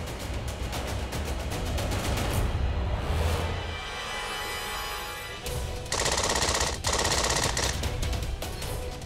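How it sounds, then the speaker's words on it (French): Bursts of rapid automatic gunfire, loud and close, in sustained rattling volleys broken by short gaps; no speech. "Ce sont des tirs."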